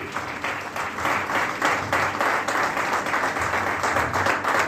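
Loud, sustained applause from a team building seminar audience in Prayagraj, dense rhythmic clapping that holds at an even level throughout.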